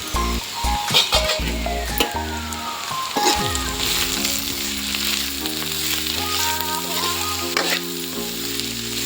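A pan of sirikura curry sizzles steadily as it is stirred after chili powder, turmeric and salt go in, with scraping strokes and light clinks over a continuous frying hiss, close and fairly loud.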